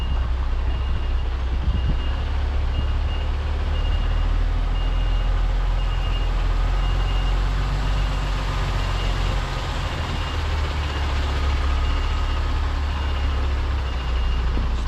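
A truck reversing a trailer through a slow manoeuvre, its steady reversing beeps repeating over a loud, constant engine rumble, with no talk.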